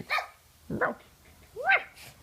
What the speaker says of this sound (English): By the way, her bark is like that.